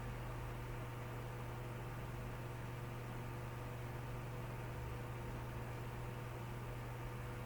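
Vadas frying in hot oil give off a steady, dense sizzle with a low electrical hum underneath, continuous and even, with no talking.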